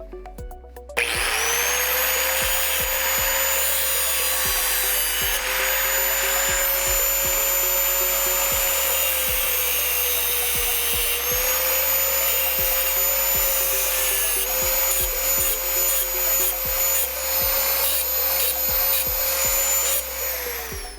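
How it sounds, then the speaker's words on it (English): A power grinder wears down the metal ends of a bracket during a Vortech supercharger install on a 2018-2023 Mustang GT, a loud, steady high whine with rasping contact noise and brief dips throughout. "these little ends here have to be ground down, kind of make it like a smooth transition to the bottom here."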